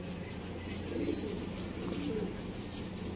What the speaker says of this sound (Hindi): कबूतर है नर।